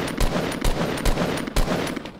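Rapid bursts of gunfire in the video game Fortnite, four sharp loud shots spaced about half a second apart over a constant background of game noise.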